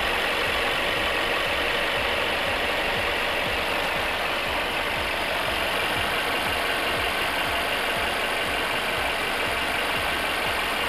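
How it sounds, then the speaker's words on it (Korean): A Mercedes GLC300 4MATIC coupe idles with the engine bay open, giving a steady, even hum with a bright hiss. It holds constant for about eleven seconds, with no speech. "엔진 소리 일정합니다."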